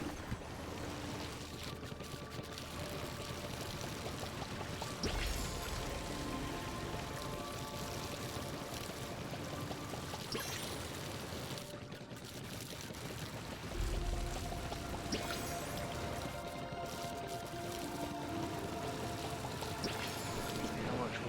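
Water pours from a can in a video game, a steady, continuous splashing wash that fills the whole stretch at an even level.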